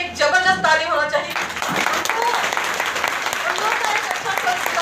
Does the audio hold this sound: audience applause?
yes